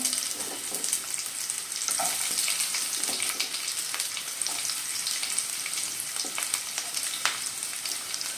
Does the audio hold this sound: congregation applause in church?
no